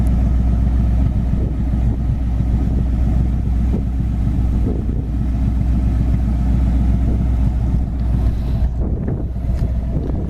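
A 1966 Ford Mustang GT with dual exhaust gives a steady, unbroken low rumble for the whole stretch, mixed with heavy wind buffeting across the microphone.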